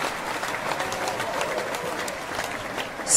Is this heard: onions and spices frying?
no